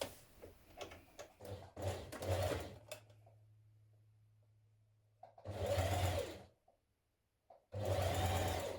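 Sewing machine hemming knit fabric, several close bursts of fast whirring stitching separated by pauses, with a low hum lingering between runs and a few clicks of the machine.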